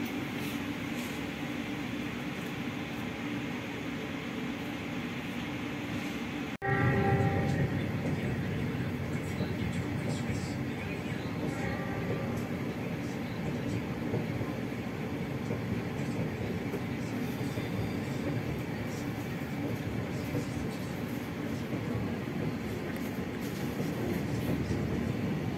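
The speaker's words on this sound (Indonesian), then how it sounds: "Oke, bersilang dengan kereta api Pangandaran ya." Inside a Lodaya passenger train while it passes the Pangandaran train on an Indonesian railway, a steady rumble and clatter runs the whole time, and a louder rush arrives early as the other train goes by.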